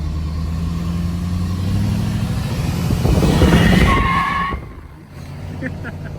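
A 2017–2019 Ford F250 diesel on 38x13.50 tires revs up on a partial throttle tap, a loud rising engine roar building over about a second before dropping off quickly, with people talking in the background.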